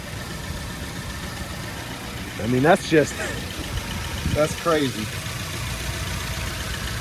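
A 2000 Nissan Frontier XE King Cab's 2.4-liter inline four-cylinder engine idles with a steady, low, close rumble, while someone talks briefly over it.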